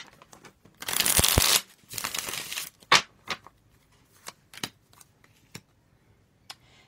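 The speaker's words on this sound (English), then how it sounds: "One more shuffle." Tarot cards being shuffled, a dense riffling burst early on followed by several short sharp card snaps and taps, close and fairly quiet, with no talk.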